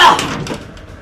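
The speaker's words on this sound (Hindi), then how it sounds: "ये नहीं खुल रहा दरवाजा।" A stuck elevator door is forced and rattled, giving a short, loud scraping clatter that fades quickly.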